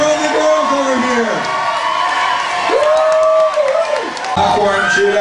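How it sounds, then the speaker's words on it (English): Children cheering in a classroom or school hall, loud excited shouts and whoops from a crowd of kids mixed with an adult voice talking over them. "Let's have these guys cheer on the two guys over here on this half."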